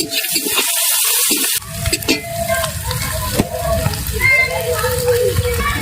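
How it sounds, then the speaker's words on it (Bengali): Onions frying in oil in a kadai, with a steady sizzle and stirring scrapes, briefly cut off by an abrupt gap early on, then continuing with clinking utensil sounds under a voice. "আমাদের পেঁয়াজটা লাল লাল হয়ে ভাজা হয়ে গেছে"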